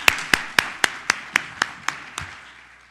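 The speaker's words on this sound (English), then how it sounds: "Let's give a round of applause to all these people" Sparse clapping at a council presentation, about a dozen evenly spaced sharp claps, close and fairly loud, slowing and fading toward the end.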